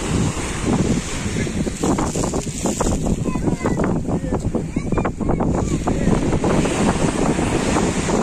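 Strong wind buffets a beach at Laginha with waves surging and crashing nearby, a loud continuous roar of gusts and surf filling the scene without a break.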